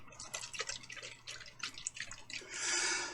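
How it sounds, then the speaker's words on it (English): Water sloshes and splashes inside a shaken CPU pump radiator in a series of quick, irregular liquid bursts, close up and moderately loud, ending in a longer hissy slosh. "you can hear water sloshing around"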